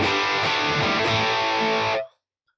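A heavily distorted electric guitar chord through a Marshall JCM 800 amp rings out loud and thick for about two seconds, then cuts off abruptly into silence.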